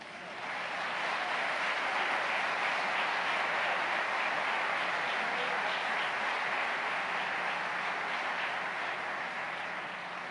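Broad, even applause fills a hall at a centenary ceremony for the newspaper El Tiempo, rising quickly to a steady roar of many hands and holding for about ten seconds.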